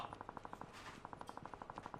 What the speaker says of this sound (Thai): ข้างหน้ามีเสียงปืนกันอีกครับผม